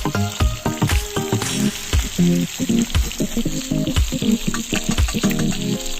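Meat frying in a cauldron, a loud, steady sizzle with stirring and scraping noises and bubbling close by.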